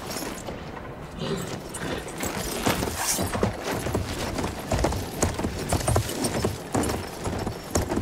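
Rapid clip-clopping hoofbeats of a galloping horse in the video game Battlefield 1, steady and fairly close, with no talking.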